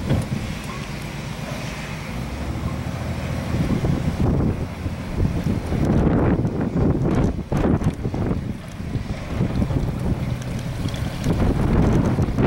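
An Eagle Marine boat runs in open water, a loud steady engine drone mixed with heavy wind buffeting the microphone and splashing hull noise, continuous for the whole stretch with no voices.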